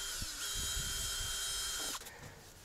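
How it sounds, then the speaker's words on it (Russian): A power screwdriver drives self-tapping screws into a backyard pool frame, its motor whining close and loud for nearly two seconds, then stopping abruptly, followed by faint handling clicks. "Основное начнем цеплять саморезами."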